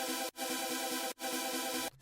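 Wavetable synth chords played with classic unison, giving a thick, detuned, phasey tone; three sustained loud chords cut by brief gaps, no voices.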